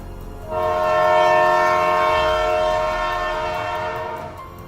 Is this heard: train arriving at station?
yes